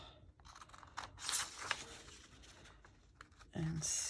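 Scissors snipping paper for a notecard, a few short soft crisp cuts and rustles spread across a few seconds, close but quiet, with a brief louder rustle near the end.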